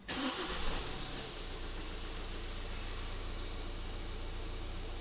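A Kia Sportage engine turns over and catches after a repair, then settles into a steady, low running hum with broadband noise and no voices, in a parking lot.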